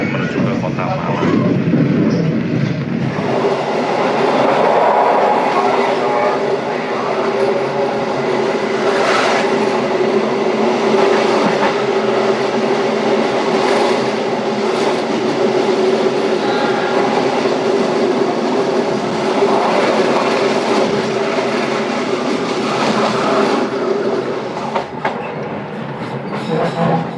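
Inside the Jayabaya executive-class passenger train, a loud, steady rumble of wheels on rails carries on throughout, with rhythmic clickety-clack and a faint squeal at times.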